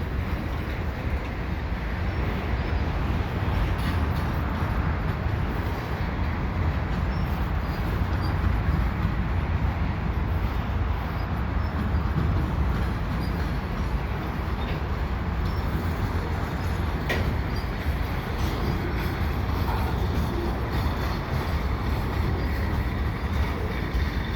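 A slow CPKC freight train rolls past at Lachine as rain begins, its steady broadband rumble and wheel noise continuous and fairly loud throughout, with no voices.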